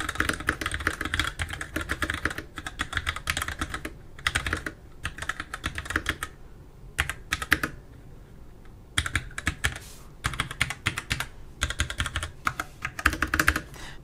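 Typing on a Razer BlackWidow Lite mechanical keyboard with Razer switches, close and crisp, in rapid bursts of keystrokes separated by short pauses, with no voice.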